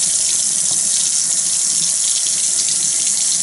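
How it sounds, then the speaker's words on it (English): Warm water runs steadily from a sink faucet for handwashing, a loud, continuous close-up splash with no pauses. "Your first step is to turn on the water."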